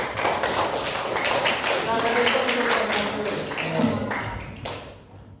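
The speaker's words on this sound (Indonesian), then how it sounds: "Kita kasih aplaus untuk kelompok 1." A classroom group of students claps for the first presentation team: dense, steady clapping from many hands, fairly close and loud, with some talk underneath, fading out near the end.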